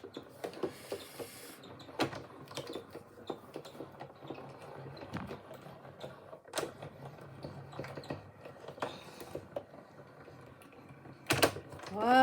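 A die-cutting machine runs card stock through dies with a series of quiet clicks, clacks and brief mechanical knocks spread irregularly over a soft background, then a louder clatter near the end.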